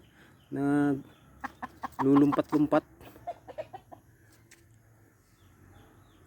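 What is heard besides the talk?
chickens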